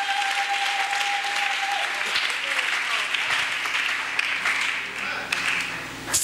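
A church congregation claps and cheers to acclaim the Lord during a Friday service: dense, steady applause that fills the room from start to finish, with a voice faintly underneath.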